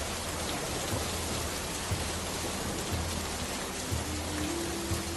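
Heavy rain pours on a stormy night in a cartoon soundtrack, a dense, constant downpour hiss with occasional low rumbles of thunder beneath it, no voices present.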